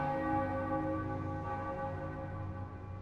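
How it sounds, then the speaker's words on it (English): A bell rings in the fantasy role-playing game Baldur's Gate 2 as a holy relic is used, its sustained metallic tone humming steadily and fairly loud with no voices over it. "That's pretty loud for a little bell."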